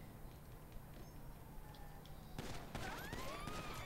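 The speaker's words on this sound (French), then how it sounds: "C'est qui me tire dessus" Rapid bursts of gunfire crackle in a video game heist as shots come at the player, starting faint and growing louder over a low background hum.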